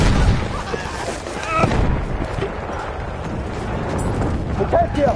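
Battlefield combat rumbles with dense gunfire and explosive booms, including a thrown grenade going off, under continuous voices talking over the noise.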